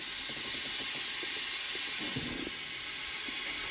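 An air seat in a 2006 Ram 2500 lowers with a steady, loud hiss of escaping air that runs throughout, with a few faint thumps underneath.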